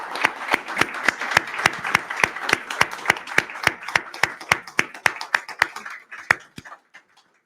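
A small audience at a Barcelona book presentation for Laura Restrepo's novel claps in a sparse, fairly steady round of distinct hand claps that thins out and stops near the end.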